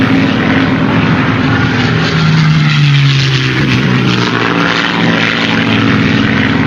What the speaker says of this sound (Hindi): मुझे किसी जहाज की आवाज सुनाई दे रही है।